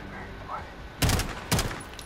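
Two loud, close bursts of automatic gunfire in Call of Duty: Modern Warfare, about half a second apart, following a quiet stretch of game ambience.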